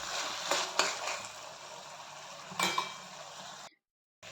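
Peas and moth beans being stirred into spices in a frying pan, a steady sizzle with a few sharp scrapes of the spoon, close and alone, ending abruptly in silence.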